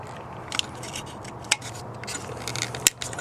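Mass air flow sensor connector snapping into place on a Toyota Corolla XRS during an Injen cold air intake install, with a couple of sharp, quiet clicks among faint handling and rubbing noises.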